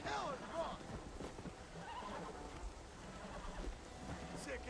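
Horse of the Apocalypse whinnying during a breaking sequence in Red Dead Redemption: Undead Nightmare, with a sharp neigh early on, clip-clopping hooves after it, and someone talking over the game sounds.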